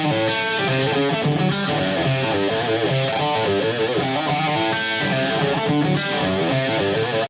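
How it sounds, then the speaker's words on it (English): A heavily distorted electric guitar plays a chugging, sustained riff with a thick, saturated 1980s rock tone, loud and continuous throughout. "1980s distorted guitar sound"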